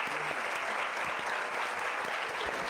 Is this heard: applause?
yes